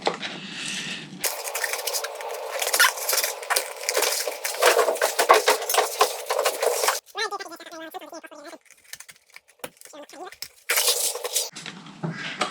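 Rode microphone packaging being pried and torn open, with loud, dense crinkling and tearing of plastic and card that runs for several seconds, pauses under a brief voice, then resumes in a short burst.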